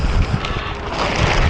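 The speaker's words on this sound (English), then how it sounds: "it's starting to get a little bit windy too" Outdoors beside a tarped load, wind blows hard, buffeting the microphone with a loud, continuous, rumbling rush that stays steady throughout the brief moment.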